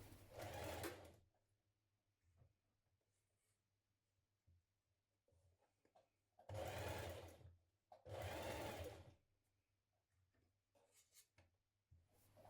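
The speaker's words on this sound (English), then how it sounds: "Now machine stitch around this curve of the foot top." Domestic sewing machine stitching around the curved foot top of a fabric teddy bear, in three loud bursts of rapid whirring stitches with quiet handling gaps between them.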